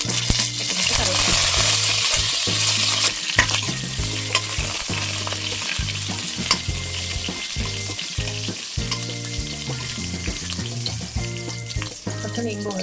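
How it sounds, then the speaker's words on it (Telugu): Mustard seeds, four chilies and curry leaves sizzle and crackle steadily in hot oil in a kadai for a tempering, a loud continuous fry with spoon stirring and scraping throughout. "ఫస్ట్ కడాయిలో ఆయిల్ వేసి దీంట్లోకి ఆవాలు వేసుకుందాం. ఇంకా ఒక 4 మిరపకాయలు, కరివేపాకు."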